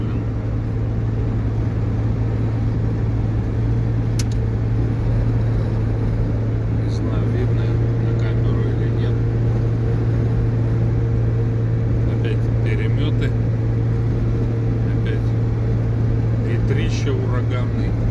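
A hurricane-strength blizzard wind roars steadily against the side of a car driving a snowy road toward Nadym. A dense, constant rush and low engine drone run the whole way under the cabin noise.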